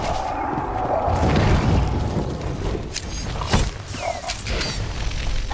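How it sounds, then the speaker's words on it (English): An airstrike in Star Wars: The Old Republic sets off a loud, rumbling explosion with a deep boom and crackling debris, followed by further sharp blasts and continuous battle noise. "An airstrike right there."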